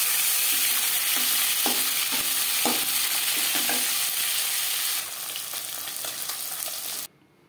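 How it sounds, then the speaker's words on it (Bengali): Rohu fish pieces frying in hot oil, a loud, continuous close sizzle with several soft clunks as pieces shift, dropping a little in level before cutting off abruptly. "পরের মাছ একইভাবে ভেজে নেব।"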